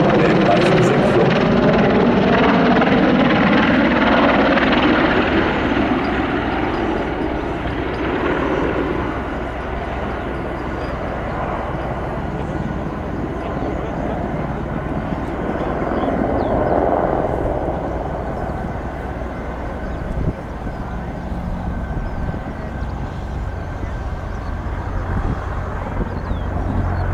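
A Sikorsky CH-53K King Stallion heavy helicopter of the US Marine Corps flies a demonstration at the ILA air show, its loud rotor thump and turbine roar filling the air continuously, swelling and easing as it passes.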